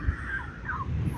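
Gull-like birds cry out over a steady low rumble of background noise, their calls faint and drawn out.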